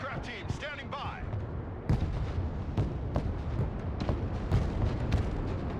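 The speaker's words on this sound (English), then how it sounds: "Artillery ready to fire, sir." Artillery guns firing in a military video game, several sharp booming shots spaced irregularly over steady battle rumble, with game voices heard briefly at the start.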